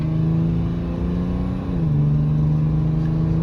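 Ram EcoDiesel pickup engine idles with a steady diesel hum, dips briefly, then settles at a slightly lower drone, close and continuous with no voices.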